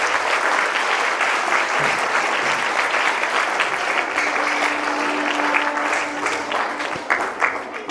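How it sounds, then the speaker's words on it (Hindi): An audience applauds at a CBSE school award ceremony in Mohania, with dense, steady clapping that carries on for several seconds and then starts to fade. "ताली बजाएं सर के लिए"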